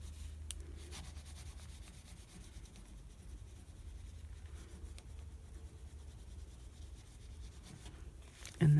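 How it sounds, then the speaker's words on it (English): A fingernail rubs a craft sticker onto a paper bingo card on a table, making a faint, steady scratchy rasp under light background hum. "then it says to rub it with your nail"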